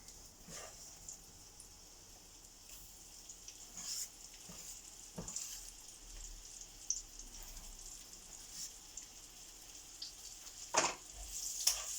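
Chin chin dough fries in hot oil with a faint, steady sizzle and scattered soft pops and crackles, quiet and continuous with no talking.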